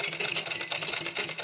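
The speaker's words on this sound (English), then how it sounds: "here I am on the sewing machine." A sewing machine runs steadily, stitching down the pleats of a fabric turban; a continuous close, fairly loud mechanical whir with a slight rhythmic pulse and no talking.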